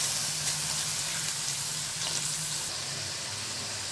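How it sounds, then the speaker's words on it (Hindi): Masala spices with chillies, salt, turmeric, red chilli, garam masala and cumin powder roasting in a pan for dhaba-style daal mash, giving a steady close sizzle and frying hiss that runs throughout with no talk. "मसाला बहुत अच्छे तरीके से हमने भून लिया है।"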